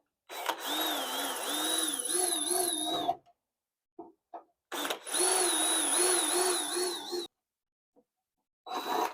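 An electric drill whirs in two long bursts of a few seconds each while removing the cowl panel of a 1979 Plymouth Volare wagon, close and loud, with short pauses and brief clicks between.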